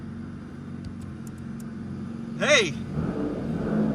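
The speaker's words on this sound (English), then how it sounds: "we just pull started a Vanquish" An Aston Martin Vanquish engine turns over and runs after being pull started, a steady idle rumble with a brief rev swelling up near the end while people talk nearby.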